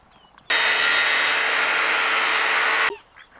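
A piece of board being cut for a rabbit hutch repair, heard as one steady, loud stretch of buzzing cutting noise lasting over two seconds, starting and stopping abruptly with quiet before and after.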